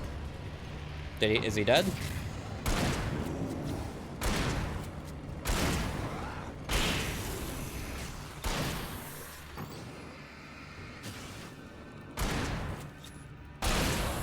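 Flashbangs and gunfire from the video game Alan Wake sound as a series of sharp, loud bursts at irregular intervals, with a voice speaking briefly among them.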